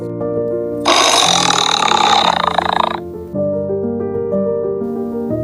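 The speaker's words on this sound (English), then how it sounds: "Tiger." A tiger lets out one loud, rough roar lasting about two seconds, close and harsh, over steady background music that continues after it fades.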